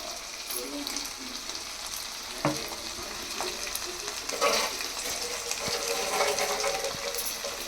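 Dosa batter sizzling on a hot pan, a steady close frying hiss with occasional scraping taps and faint clinks, moderately loud, a voice faintly in the background.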